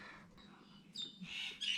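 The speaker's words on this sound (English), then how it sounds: "with those birds, shush" Birds chirp and squawk outdoors, faint and distant, in a few short scattered calls over a low background hiss.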